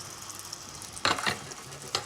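Olive oil heating in a hot pan gives a soft, steady sizzle, with a couple of brief, brighter crackles near the end.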